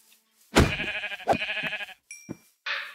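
Sheep in the Minecraft game let out several short, close bleats in quick succession, each a nasal wavering call separated by brief pauses, with a few faint game tones between them.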